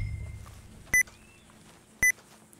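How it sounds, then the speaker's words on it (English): Two short, sharp electronic beeps in the video game Red Dead Redemption 2, about a second apart, loud and clean over a quiet game ambience. "Why am I getting beeps? What is these beeps?"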